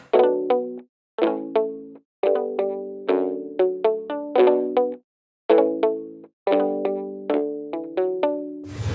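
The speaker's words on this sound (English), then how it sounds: "Let's take a listen to this muted electric patch." A muted electric guitar patch from a sound workstation plays short, plucked chord phrases with quick decays, repeating in a steady rhythm with brief gaps, close and clean.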